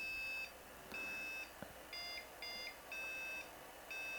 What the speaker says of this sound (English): So let's see if it beeps.